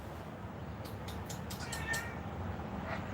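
A cat meows several times in a row, short bright cries repeated close by over a quiet room hum.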